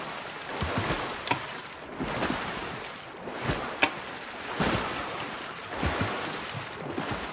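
Water splashing in the video game Fortnite, a continuous surf-like wash with periodic swells and a few small sharp clicks, no talk.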